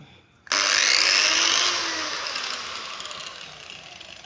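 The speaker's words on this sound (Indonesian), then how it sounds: "kita coba untuk performanya seperti apa untuk pemotongan di material keramik" An angle grinder bites into ceramic tile, starting abruptly with a loud high-pitched whine and grinding screech, then easing to a lower, steadier cutting drone as the disc works through the tile; no voices.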